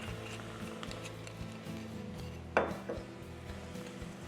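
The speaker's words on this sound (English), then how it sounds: "Just give it a stir" Spoon stirring white wine sauce in a skillet for chicken with maple and apple, soft scraping and clinks with one sharper knock of utensil against pan midway, close and fairly quiet.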